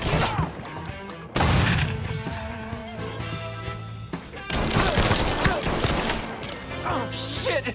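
A grenade blast in Mafia 3 lands as a sudden loud crash, followed by more booms and gunfire-like bursts amid chaotic combat noise, with a brief lull between the heavy impacts.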